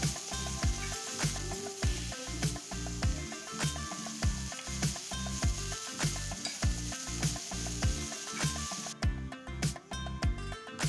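Minced green chilies with ginger and garlic frying in a pan, a steady close sizzle broken by repeated rhythmic scrapes and taps of a spoon stirring, continuous and fairly loud with no talking.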